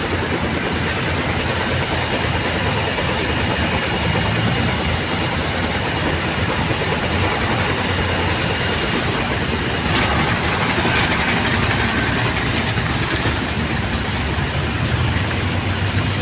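Heavy trucks and trailer trucks work at a stone quarry, making a loud, continuous diesel rumble and rattle that stays steady throughout with no pauses.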